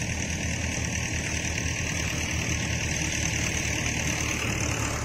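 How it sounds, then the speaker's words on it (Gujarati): A tractor engine runs at a steady drone, close and continuous, with no voices over it. "ટ્રેક્ટરનો અવાજ આવી જાય"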